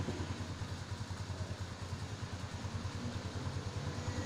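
A motorcycle engine left idling to warm up, a steady low rhythmic putter, fairly quiet and unbroken, with no talking.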